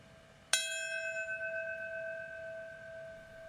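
A single memorial bell toll sounds at a September 11 remembrance ceremony, one clear strike whose ringing tone slowly decays and hangs over a quiet background.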